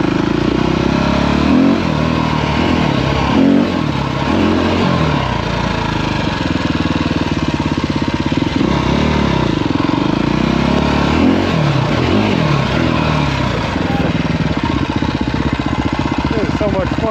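A dirtbike engine roars continuously on a POV ride through Philadelphia streets, loud and close, its revs rising and falling in repeated surges throughout.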